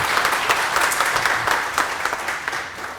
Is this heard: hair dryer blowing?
no